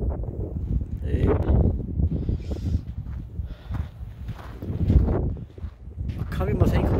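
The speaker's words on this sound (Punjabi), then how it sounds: "ਅੱਖਾਂ ਵੀ ਮਸਾਂ ਹੀ ਖੁੱਲ੍ਹਦੀਆਂ ਨੇ ਕਿ ਹਵਾ ਚੱਲਦੀ ਆ।" Strong wind gusts roar and buffet the microphone during a Calgary snowstorm on icy roads, a continuous loud rushing with swelling surges throughout.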